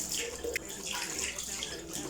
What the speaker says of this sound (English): I'm gonna rinse it off with warm water